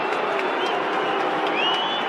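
A big stadium crowd roars steadily at a Sydney versus Collingwood preliminary final at the SCG, a dense, continuous wash of cheering with a commentator's voice faintly underneath.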